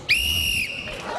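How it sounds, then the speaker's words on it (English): A referee's whistle starts a zero-G course race on the game show Global GUTS: one sharp, shrill blast lasting about half a second, loud and close, followed by faint background noise. "Mike, at the sound of my whistle, each player will race around the zero-G course"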